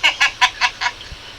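Geese honk nearby in a quick series of five loud calls, evenly spaced, then fall quiet.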